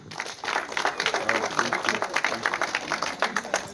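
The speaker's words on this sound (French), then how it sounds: "On applaudit." A crowd applauds teams being introduced at a Songo board game tournament in Essassa-Ntoum, with steady, dense clapping that carries on throughout after a brief quieter start.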